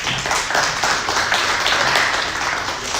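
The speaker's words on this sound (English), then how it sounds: "let's give him a round of applause" Crowd applause at a business presentation, a dense steady patter of many hands clapping throughout, moderately loud with faint voices underneath.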